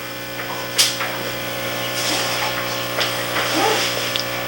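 Compressed air bubbles through a paint fluid bed as a valve opens, giving a steady humming hiss with soft gurgling pops and occasional brief bursts, close and continuous.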